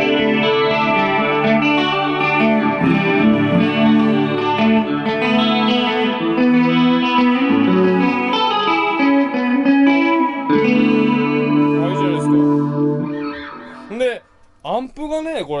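Electric guitar through a Bluesbreaker combo amp playing sustained chords and melodic lines, washed in shimmering chorus, echoing delay and spacious reverb, fairly loud throughout, thinning near the end.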